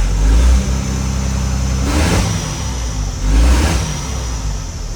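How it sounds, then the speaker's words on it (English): A school bus engine fitted with a custom exhaust, heard from inside the cab, rumbles loudly throughout with two deeper revving surges, at the start and again near the end. "But it just cracks me up though. Got a very loud school bus."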